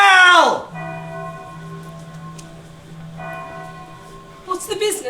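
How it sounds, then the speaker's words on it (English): A stage bell rings out during a Macbeth theatre performance, a loud struck tone with long sustained harmonics that rings twice, the second strike fading as voices rise at the end. "Ring the bell!"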